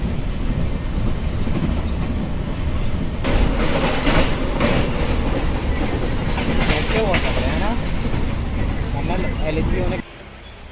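The Tanakpur–Poornagiri Janshatabdi Express runs on rails toward Chandausi, heard from on board. There is a loud, steady rumble with rhythmic clacking and some faint voices, and it drops off abruptly just before the end.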